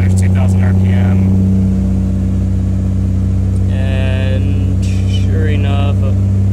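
A Nissan Skyline R32 GTR engine held at a steady 2,000 RPM idle-rev, a loud continuous low drone throughout, with someone talking over it in bursts.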